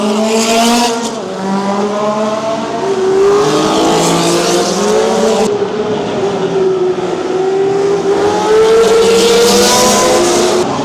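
Vintage Formula 1 race cars from 1960 to 1965 roar at the Monaco historic Grand Prix, loud engines rising and falling in pitch as they accelerate and pass close by, one after another with no talk.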